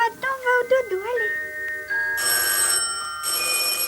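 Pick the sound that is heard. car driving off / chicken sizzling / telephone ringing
telephone ringing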